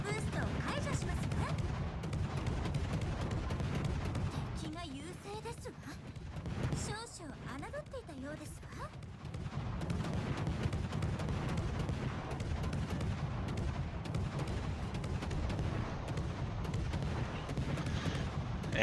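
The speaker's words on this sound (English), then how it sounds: "I can get all 8 guns off" Warship main battery guns firing in World of Warships, the French cruiser Colbert's eight turrets, booming in repeated salvos under steady game noise and a talking voice.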